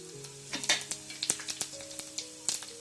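Cumin seeds crackle in hot oil in a pan, a close sizzle full of sharp irregular pops and ticks with a steady low hum underneath and no talk.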